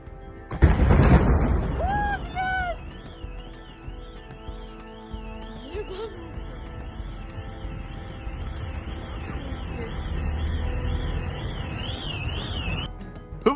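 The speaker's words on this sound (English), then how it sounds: "Gas explosion in Far East Magadan." A gas explosion in Magadan in Russia's Far East: a loud, sudden boom near the start, then a steady rising-and-falling electronic alarm warbles on over a low background rumble.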